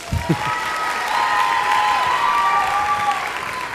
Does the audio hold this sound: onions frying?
no